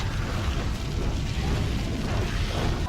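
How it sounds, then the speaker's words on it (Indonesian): A car exploding in a street-racing film, a loud, dense roaring blast that rumbles on steadily for about three seconds with no voices over it. "Hingga mobilnya itu meledak dan Kelly tak terselamatkan."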